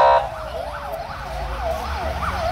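A police car siren wails nearby in Petroșani as officers drive off, its rising and falling tone cycling steadily over the low rumble of traffic, with a brief burst of voice at the start.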